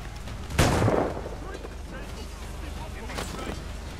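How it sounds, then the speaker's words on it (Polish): A heavy in-game blast from cannon fire on fortifications in Assassin's Creed IV: Black Flag, one loud booming explosion that rumbles and decays, followed by a softer second boom a few seconds later. "jakie wybuchy"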